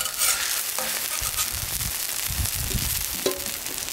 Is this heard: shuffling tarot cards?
no